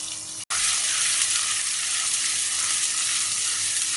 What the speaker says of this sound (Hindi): अदरक लहसुन और हरी मिर्चों को हमने 1 मिनट फ्राई कर लिया है।